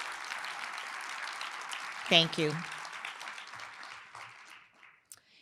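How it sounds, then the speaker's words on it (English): Audience applause for the sponsors at a scholarship awards celebration, steady broadband clapping that fades over several seconds, with a person briefly speaking over it midway. "Please give a round of applause now to all of our sponsors."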